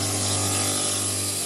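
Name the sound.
grinder sanding down metal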